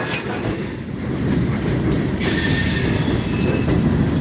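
Southbound Norfolk Southern freight train rolling past, wheels squealing against the rails over a loud, steady rumble of railcars, with sustained high-pitched screeches across the passage.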